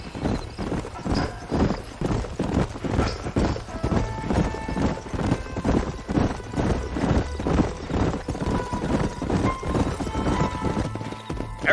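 Horses' hooves clip-clop steadily in a continuous, rhythmic gallop in the Western video game Red Dead Redemption, loud and close, with occasional faint tack jingles and soft background game ambience.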